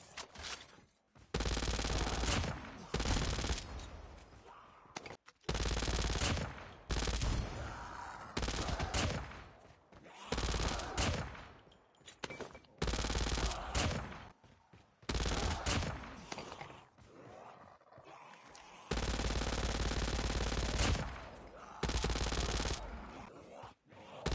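A light machine gun in COD Mobile zombie hard mode fires long, loud sustained bursts, separated by brief gaps, with dense rapid gunfire filling most of the stretch.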